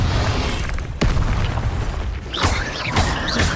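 A Confringo spell explosion in the Hogwarts Legacy video game: a loud, dense boom with a sharp onset about a second in, then crackling bursts and mechanical rattles near the end, filling the whole short stretch.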